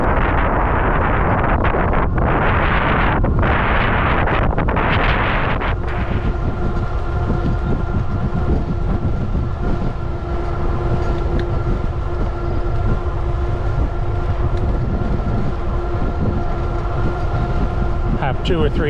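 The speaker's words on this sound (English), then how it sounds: "I can take the 3:30 train from Oceanside" A train rides from Oceanside with a loud continuous rumble and rolling rail noise, heavy wind buffeting early on, then steady tonal hum from the moving cars throughout, close and unbroken.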